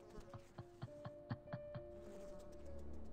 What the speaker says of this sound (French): Stop ce son de mouche, c'est bon.